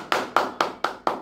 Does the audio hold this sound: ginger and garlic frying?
no